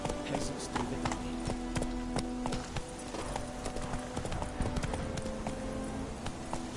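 Galloping horse, Roach, rapid rhythmic hoofbeats pounding steadily and close alongside tack jingles and a busy background.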